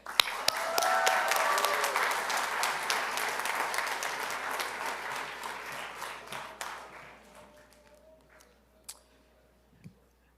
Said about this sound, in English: Please give a huge round of applause for our 2026 valedictorian,